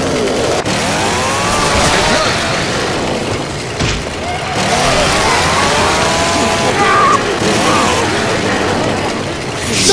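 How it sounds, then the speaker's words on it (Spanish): A chainsaw in Left 4 Dead 2 roars continuously with a wavering, revving engine whine over a busy game soundscape, loud and close with short breaks. "Pillo motosierra."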